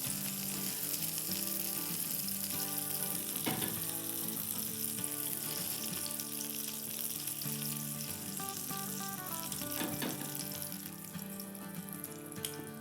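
Salisbury steak frying in a pan, a dense, steady sizzle running loud and continuous throughout, with no voices over it.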